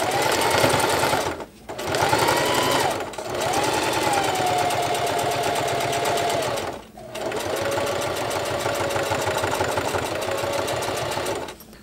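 A Singer HD sewing machine runs zigzag stitches on a spacer-mesh bottle carrier in four long, steady bursts of rapid mechanical clatter, separated by short pauses.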